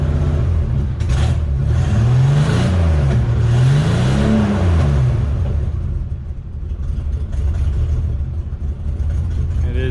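A Ford Bronco engine with a check-engine light and a suspected exhaust problem rumbles loudly and close by, swelling through a couple of brief revs before settling into a steady, slightly rough idle.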